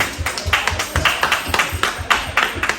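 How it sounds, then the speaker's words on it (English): Sparse clapping and taps from a small audience at a live talk show, irregular bursts of hand claps over about three seconds, fairly close, with no voices over it. "Give me a round of applause."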